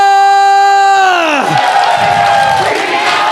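An esports arena crowd at a mobile game match erupts in loud, sustained cheering and shouting right after a long, sliding tonal cry, with the roar filling the space.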